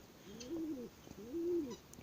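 Two soft, low pigeon coos, one after another with a short pause between, fairly close against a quiet background.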